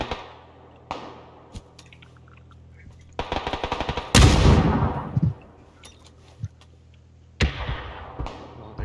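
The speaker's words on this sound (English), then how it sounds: "the guy's under heavy fire" PUBG gunfire: scattered single shots, then a rapid automatic burst followed by a loud heavy blast, with more isolated cracks afterward, some near and some more distant.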